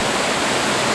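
Mary Vine Falls on Vancouver Island, a forest waterfall, pours in a dense, even rush of falling water, close and steady for a brief moment with no other sounds.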